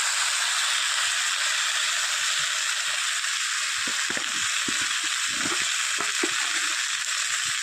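Raw taro pieces, cut and washed but not boiled, fry in a wok with a steady, even sizzling hiss and a few soft clinks and stirring knocks.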